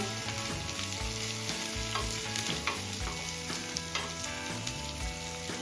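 Chopped coriander being stirred into a frying pan, a continuous sizzle with scraping stirs over a steady hum of music-like tones, no talking.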